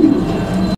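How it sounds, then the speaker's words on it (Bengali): A male Indonesian-colored fancy pigeon gives a full, deep coo, close and loud, lasting under a second before cutting off abruptly. "দেখতেই পাচ্ছেন নরের ডাক, একদম ভরপুর ডাকের কবুতর"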